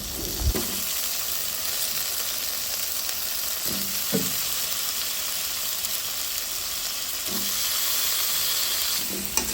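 Cauliflower and potatoes fry with spices in a pan, a steady loud sizzle running throughout, broken by several distinct scraping thumps as the vegetables are stirred and turned.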